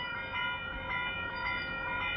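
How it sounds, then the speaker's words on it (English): Train arriving at a suburban station platform, a sustained tonal horn-like whine over a low rumble, steady and moderately close with no talk. "The train's coming."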